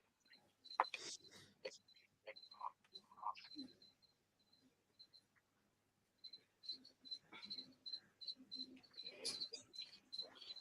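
Pet crickets chirp loudly indoors in rapid, repeated high trills that come in bursts, a lull in the middle, then a dense run near the end, with people talking over much of it.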